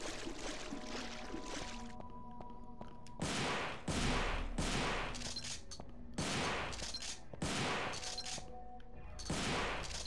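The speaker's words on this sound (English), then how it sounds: "this is when I should start getting my shotgun out" Shotgun blasts in the Devil May Cry video game. Roughly five loud booming shots fire at irregular intervals a second or two apart, each with a decaying tail, over a quieter game background.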